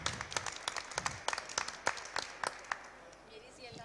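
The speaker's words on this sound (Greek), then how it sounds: "Άρα θα χειροκροτήσουμε λοιπόν όλη αυτή την προσπάθεια." Audience applause at a Mediterranean gastronomy forum during Food Expo 2022, a burst of scattered clapping with sharp individual claps that thins out toward the end, fairly faint and set in a large hall.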